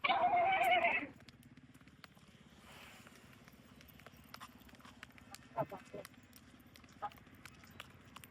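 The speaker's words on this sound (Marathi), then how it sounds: "तुम्हाला रिअल घोडा बघायचा आहे." A horse walking with a religious palanquin procession gives one loud opening whinny, then faint scattered hoof clops under background crowd noise outdoors.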